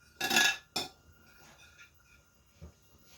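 A spoon clinks and scrapes against a bowl while a perilla seed mixture is stirred for a Korean hangover soup with pork bones and dried cabbage leaves; two sharp clinks near the start, then faint scraping and one soft knock.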